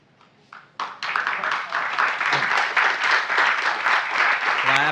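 An audience at a NASA presentation of the first James Webb Space Telescope image breaks into applause, starting with a few scattered claps and swelling into sustained loud clapping with cheering voices mixed in.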